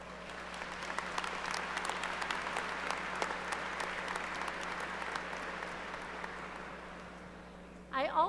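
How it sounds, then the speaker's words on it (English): Sustained applause from an audience at a college staff pinning ceremony, steady clapping from many hands for about seven seconds before a brief louder burst at the end. "So please join me in giving the staff a huge round of applause."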